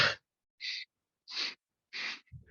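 Four forceful mouth exhales during a hatha yoga session, each a short breathy whoosh separated by pauses of about half a second, close and clear, with a soft breath or voice at the very end.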